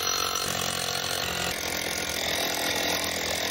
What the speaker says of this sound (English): Here's a core drill, and I got a ground rod bit on it.